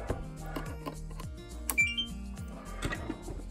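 A short electronic beep from a Fluke DSX2-5000 network cable tester on connecting a cable sounds over a busy, clattering background of mechanical and tonal noises, with sharp transients scattered throughout.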